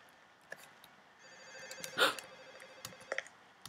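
A telephone ringing inside the Garry's Mod game on a Freddy Fazbear's Pizza map, a fairly faint electronic ring with a louder burst midway, heard alone without talk.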